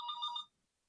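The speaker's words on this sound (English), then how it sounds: "That's my landline." A landline telephone rings once, a short bright electronic trill lasting about half a second, faint and somewhat distant, then cuts off into silence.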